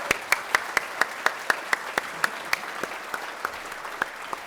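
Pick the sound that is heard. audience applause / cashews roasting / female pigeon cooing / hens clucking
audience applause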